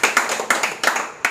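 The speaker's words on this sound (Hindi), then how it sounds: "ताली बजाकर स्वागत कीजिए इनका" Students clap in welcome at a quiz class, giving several short bursts of applause in an uneven rhythm, close and fairly loud with no talking over them.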